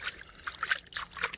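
Water is poured over a freshly caught catfish on a riverbank, a quiet, close trickling and splashing that comes in a few uneven bursts.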